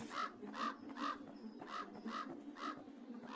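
Crow in a video game cawing about seven times in a steady, evenly spaced series of harsh calls, fairly faint and clear, with no talking over it.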